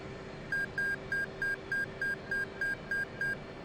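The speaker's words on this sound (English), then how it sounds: "that beeping tells us that that's done" A steady series of ten short electronic beeps from an F/A-18C Hornet cockpit in DCS World repeats at an even rhythm over a low background hum, clear and close.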